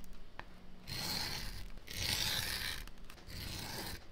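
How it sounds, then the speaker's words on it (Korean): A groover cutting a groove into leather, three scraping, rasping strokes of about a second each separated by short pauses, close and distinct with no talking. "접히는 위치를 디바이더를 이용해 표시해주고 그루버를 이용해 홈을 파줍니다."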